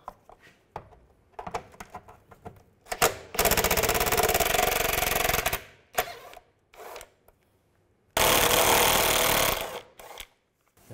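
Nuts are removed with a 10mm socket on a 2006-2011 Cadillac DTS during vapor canister vent valve replacement, with two loud bursts of a power ratchet or impact tool and short clicks and handling noises between them.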